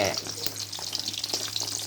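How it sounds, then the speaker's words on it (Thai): Mackerel fish fries in a pan, a steady close crackling sizzle with scattered pops and no talking. "ตอนนี้ก็ทอดปลาทูก่อนนะครับ"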